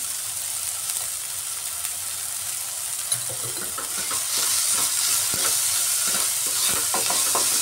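Tomatoes with salt fry in a pan, a soft sizzle that swells into louder crackling and stirring scrapes partway through, close by with no speech.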